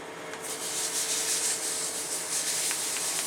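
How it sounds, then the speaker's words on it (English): Fine 1000-grit sandpaper rubs steadily over a cured CA glue finish on a hollow turned wooden piece, a continuous close hiss with slight strokes and no voices. "Once I have it there, I want to go ahead and sand."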